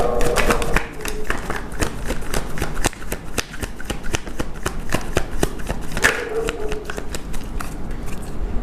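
A deck of tarot cards is shuffled again and again, giving rapid riffling and tapping bursts that run close to the mic throughout, with a sharper flurry of card slaps near the end and no talking over it.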